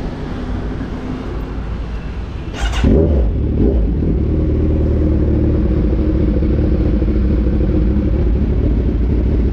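A Kawasaki motorcycle engine idles steadily after a fresh fill of fuel, a low continuous rumble close by that shifts to a slightly higher, steadier tone partway through, with no talk over it.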